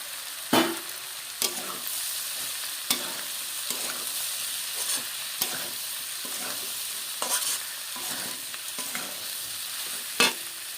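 Shrimp stir-fried with mixed vegetables for fried rice sizzles steadily in a pan, punctuated by sharp, regular spatula scrapes and clanks roughly every second, close and moderately loud.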